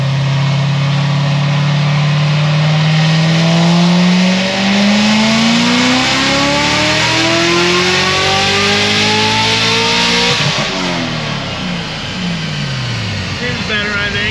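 Stage 4 supercharged Corvette C7 Z06 making 900-plus rear-wheel horsepower, revving hard under boost with a long rising engine pitch, then dropping back after about ten seconds, loud and close with a whining, roaring tone.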